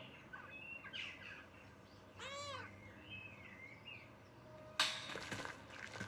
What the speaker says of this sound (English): What was that noise? When I pet the cat?